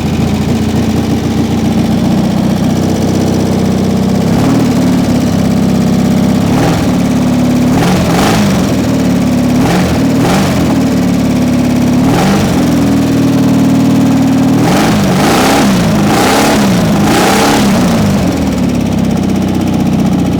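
A cheap secondhand Volkswagen engine runs on a stand, a loud, close, continuous idle broken by repeated sharp blips of revving, several in quick succession near the end.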